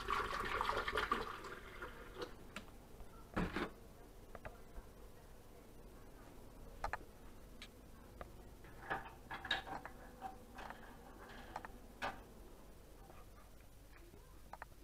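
Water gushes from a container into a cooking pot in a home kitchen while vegan food is being prepared. A short, fairly loud splashing pour comes first, then a second brief burst, followed by quieter scattered clinks and taps.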